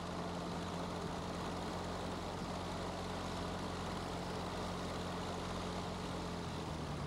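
A light airplane taxis slowly at low engine revs, its propeller engine droning steadily and loudly throughout, heard close up without speech.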